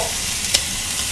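Hot oil sizzling steadily around squid in a pan, close and loud, with one brief sharper crackle or stir near the middle.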